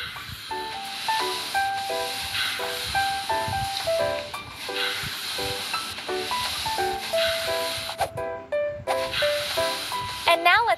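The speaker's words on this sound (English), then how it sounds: "Let's steam our clothes." Steam hisses from a small steamer pressing doll clothes, in repeated short bursts with a pulsing rhythm, close and fairly loud, alongside faint tonal beeps and sounds in the background.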